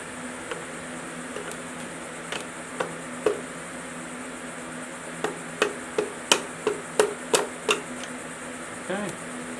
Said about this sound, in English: let's ratchet it down as far as it can go